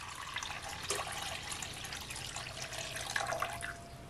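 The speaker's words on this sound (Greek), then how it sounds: "Σε ένα μπολ θα βάλουμε 600 γραμμάρια χλιαρό νερό." Lukewarm water pours into a bowl as bread dough is prepared, a faint, continuous splashing trickle with a brief clink partway through and no talking.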